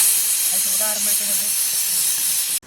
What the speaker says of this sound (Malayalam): കുക്കർ അതാ വിസിൽ വിളിക്കുന്നു